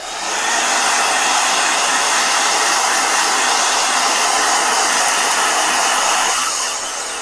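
A hair dryer blows steadily on a warm setting, loud and close, a continuous broadband rush that starts abruptly and holds for about seven seconds before easing slightly at the end.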